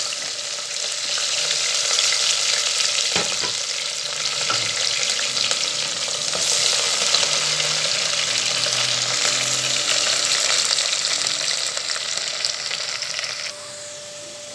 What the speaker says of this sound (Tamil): வெங்காயம் நல்லா பொன்னிறமாக வதங்குற வரைக்கும் நம்ம சேர்த்து வதக்கலாம் கொஞ்சம் நேரம்.